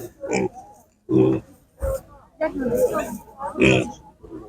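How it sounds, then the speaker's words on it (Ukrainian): Piglets for sale grunt and squeal in short bursts at a livestock market in Prykarpattia, Ukraine, with people talking nearby throughout. "Скільки поросятка? Отакі поросятки."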